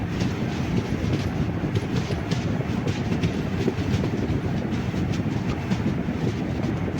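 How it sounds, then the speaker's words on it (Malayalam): A passenger train on the Thiruvananthapuram to Kollam line rolls into a small station, a loud, steady rumble of wheels with clickety-clack beats heard from inside the carriage, with no voices. "നമ്മളിത് മറ്റൊരു സ്റ്റേഷനിലോട്ട് പ്രവേശിച്ചുകൊണ്ടിരിക്കുകയാണ്. നമ്മുടെ ട്രെയിൻ"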